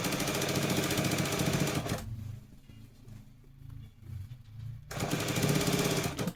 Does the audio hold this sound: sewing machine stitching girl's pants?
yes